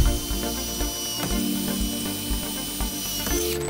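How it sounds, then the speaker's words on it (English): An impact driver drives a screw through a seat back into a railing, with a plastic backing between them. It gives a loud, fast, steady rattle of hammering impacts that goes on throughout, close to the listener. "And then with an impact, I'm gonna get my screw started."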